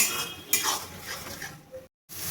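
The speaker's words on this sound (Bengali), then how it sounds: "এবার আমি মশলাটাকে ভালোভাবে কষিয়ে নেব।" Spice paste with ginger is stir-fried in a pan for a fish curry. Metal utensil scrapes and clinks against the pan over a low sizzle, close, then cuts to a brief silence.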